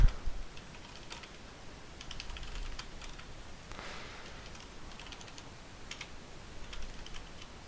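Soft, rapid clicking of keys on a computer keyboard, irregular and close, at a low level with no talking.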